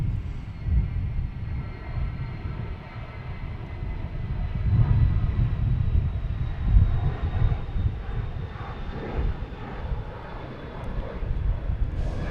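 A NetJets business jet at Boston Logan Airport sends out a steady, moderately loud engine roar and whine that swells and ebbs across the stretch, heard from a spotting position nearby with no talk.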